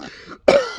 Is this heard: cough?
yes